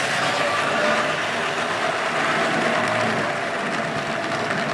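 A Hornby Triang model EMU electric multiple unit runs along model railway track, giving a steady, continuous whirring rumble with a faint mechanical rattle throughout, close and even in level, with no talking.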